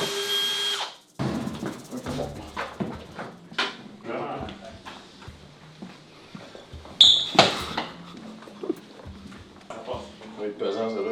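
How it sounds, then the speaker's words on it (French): Drilling on a construction site for a trading floor build-out, as a heavy-duty power drill whines and grinds in short bursts under French talk, with a sharp clatter midway. "Big, c'était une drill d'homme, là, pas une fucking Black & Decker"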